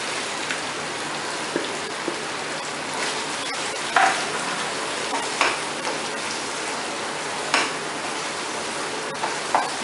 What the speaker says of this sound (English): To mix this nicely so that the paste is coated all over the mushrooms.